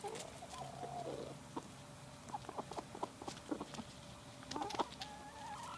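Kinda hens cluck softly in short, scattered bursts at close range, with faint pattering and rustling in a quiet setting.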